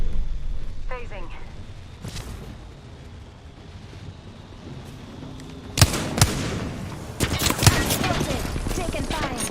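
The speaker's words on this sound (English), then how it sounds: "Taking fire. The enemies are shooting." Enemy gunfire in Apex Legends, quiet at first, then sharp loud bursts of shots and impacts crowding the back half, with a voice talking faintly underneath.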